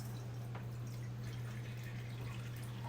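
Cold tap water trickles slowly into a container, a faint, steady running and dripping sound over a constant low electrical hum, with no talking.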